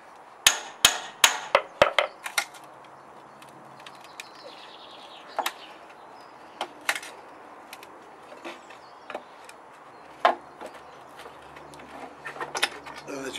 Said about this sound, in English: when you get to the last one, basically just put your chisel in